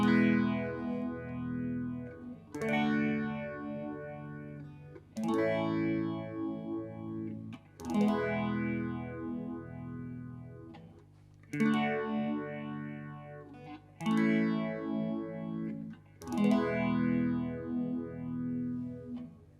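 Electric guitar through an Electro Harmonix Bad Stone phase shifter set to a faster rate: a series of strummed chords every two to three seconds, each ringing out with a sweeping, swirling phase effect, clear and close with no speech.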